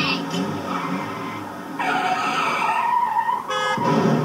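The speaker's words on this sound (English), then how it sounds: "Click again to launch your car into traffic" Video-game car from Roadkill Revenge sends tires skidding and squealing as it launches into traffic, a loud continuous screech with engine roar, speech overlapping throughout.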